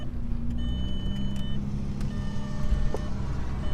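A 1.8T Volkswagen Passat B5 with a manual gearbox pulling away, its engine a steady low drone heard from inside the car, with faint beeping tones and a few light clicks over the rumble.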